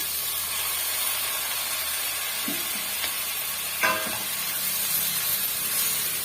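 Tomato sizzles and fries in a pan with onion, ginger and garlic, a steady close hiss with a couple of faint stirring clinks.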